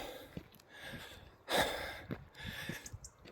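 A person breathes heavily while climbing, gasping and puffing close to the microphone, with one sharp loud exhale partway through and quieter panting around it.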